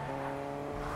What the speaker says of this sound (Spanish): ¿Llega carro? Cuidado.